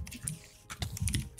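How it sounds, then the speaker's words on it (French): Fast, uneven bursts of keystrokes on a computer keyboard during a Minecraft UHC gaming stream, close to the microphone, with clustered clicks and short pauses between them. "Je sais qu'on entend mon clavier."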